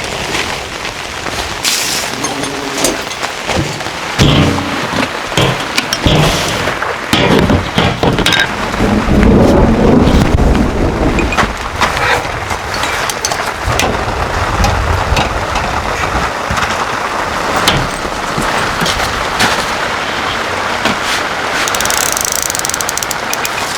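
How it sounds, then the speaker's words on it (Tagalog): Heavy rain pours down loudly and continuously on a campsite with a tarp, a dense rushing hiss with sharp patters and thumps throughout, no speech. "Grabe ulan."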